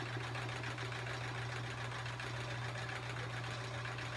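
A sewing machine runs steadily during free-motion quilting, the pedal pressed a bit harder than usual, giving a faint, continuous mechanical hum with a fine rapid stitching rhythm and no talk.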